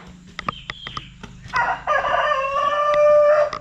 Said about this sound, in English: that's Ralph the rooster talking to us